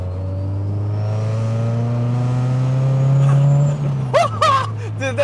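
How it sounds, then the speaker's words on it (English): A turbocharged Toyota 86/Subaru BRZ built for 400 WHP accelerates close by, its engine note rising steadily with a high turbo whine climbing over it, then the revs drop and people talk excitedly. "the turbo spool sounds hectic as well"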